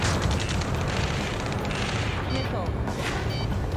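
Gunfire rattles through a firefight in Ace Combat 7, dense bursts of shots and booms filling the scene steadily while voices shout over the din.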